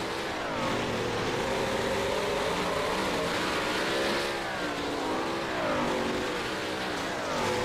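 Race cars speed around the track during the first heat of a Core Premier Series race, a steady, loud engine drone rising and falling as cars accelerate and pass, with no talk.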